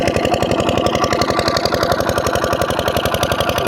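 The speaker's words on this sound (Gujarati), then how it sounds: "મશીન ચાલુ કર્યું હજી. આ અમારું પાણીનું મશીન છે," An engine-driven farm water pump, used for irrigating a wheat field, runs steadily after starting, its loud, close engine chugging in a fast even rhythm throughout.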